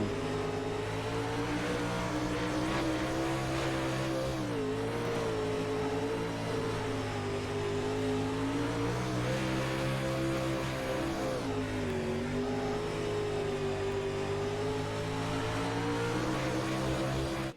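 Steel block late model race car engine heard from inside the car at Cedar Lake Speedway, a loud continuous roar that rises and dips in pitch as the throttle is worked through the corners.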